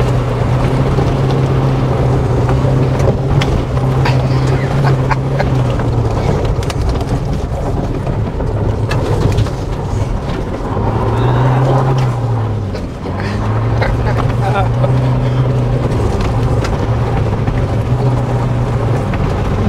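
A Toyota Hilux GR Sport with the 2.8 turbodiesel 1GD engine drives onto a dirt track, giving a loud, steady engine drone mixed with wind rush; the engine pitch falls and recovers briefly midway.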